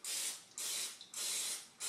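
Cooking spray hisses from an aerosol can into a muffin tin before baking, four short sharp bursts in quick succession, close and fairly quiet, with no talking.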